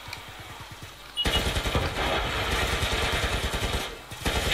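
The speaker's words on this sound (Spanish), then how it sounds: "¿De dónde se van dando los tiros?" Rapid bursts of automatic gunfire in the video game Black Ops 2 rattle loudly after a brief quieter start, with a short pause before the shooting resumes.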